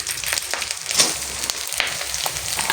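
Lentils and green chillies hit hot oil with five-spice seasoning for a Bengali lau dal, giving a steady, close crackling sizzle with sharp spatter bursts throughout, and no talking.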